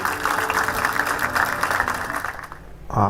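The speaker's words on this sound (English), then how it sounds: "Give him a big round of applause to Professor Kidwai." Applause from an audience filling a university mass communication auditorium, a steady dense wash of clapping lasting about two and a half seconds before it thins and a voice begins at the end.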